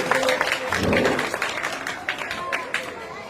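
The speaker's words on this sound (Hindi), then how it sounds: "एक जोरदार तालियों के साथ इनका स्वागत करें प्रमोद सिंह जी" At a kavi sammelan, an audience bursts into loud applause to welcome the poet Pramod Singh, with a strong swell early on that settles into continued clapping and crowd noise, and a voice speaks over it.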